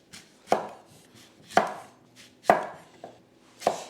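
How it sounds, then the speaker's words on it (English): Gala apples being sliced with a knife on a board, four or five sharp, separate chops at an unhurried, uneven pace, close and clear with a quiet room in between. "Then I need to slice 2 of the gorgeous, locally grown Gala apples."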